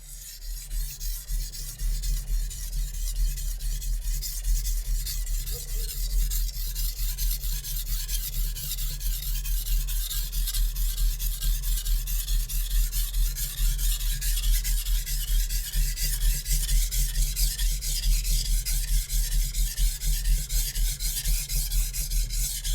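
A Zwilling chef knife is sharpened on a single Japanese whetstone, a steady, continuous rasping rub of steel on stone with regular back-and-forth strokes, close and fairly loud, throughout with no talking.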